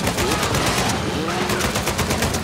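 Dense, continuous gunfire in the video game Uncharted 4, loud rattling automatic shots packed together without a break, with voices mixed under the shooting.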